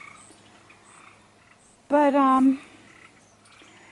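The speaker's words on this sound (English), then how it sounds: "And the tree frogs are starting to sing to us." Tree frogs singing outdoors, faint high chirping calls repeating in the background, briefly interrupted by a single short spoken word.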